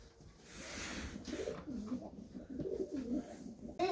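Mykolaiv breed pigeons coo softly and repeatedly at close range, low rolling calls in a quiet setting with faint background noise.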